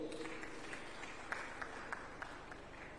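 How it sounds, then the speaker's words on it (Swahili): Applause from a conference audience at the Tanzania Annual ICT Conference in Dar es Salaam, a steady wash of many hands clapping with a few sharper claps standing out, with faint voices mixed in. "Naomba makofi kwake"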